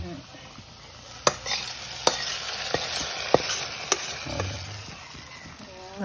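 Tadka tempering spices for a fish curry sizzles softly in hot oil, a faint continuous fry with a few sharp clinks of a utensil against the pan and occasional stirring scrapes.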